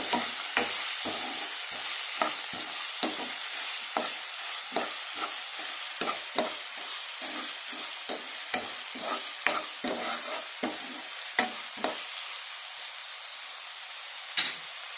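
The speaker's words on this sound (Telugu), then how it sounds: "ఉల్లిపాయలు కూడా బాగా ఫ్రై అవ్వాలి." Onions frying in oil for a drumstick masala curry, with a constant close sizzle broken by regular quick spatula scrapes and taps against the pan throughout.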